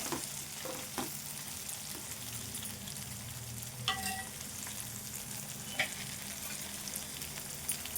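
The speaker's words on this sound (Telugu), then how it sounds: "కొద్దిసేపు ఇవి వేగనిద్దాము ఇంకా వేగాలి ఈ ముక్కలు" Okra pieces frying in a pan, a steady low sizzle with occasional scraping stir clicks, close and fairly quiet, with no talking.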